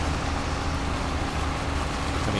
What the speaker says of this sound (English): it's the carrots dropping into that